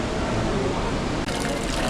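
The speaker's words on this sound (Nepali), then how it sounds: "भित्र चाहिँ पानी कराइरहेछ" Water roaring inside Gupteshwor Mahadev cave, a dense, continuous broadband rush close by, with a crowd murmuring under it.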